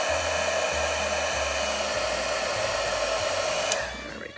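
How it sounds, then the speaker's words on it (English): Heat embossing tool blowing hot air over a stamped metal card piece, a loud, steady close-up whooshing whir that runs continuously, then cuts off near the end. "always make sure you turn it around so that you're heat embossing the opposite side too"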